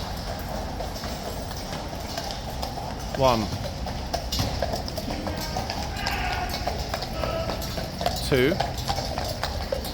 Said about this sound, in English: There is that glorious clippy-clop sound.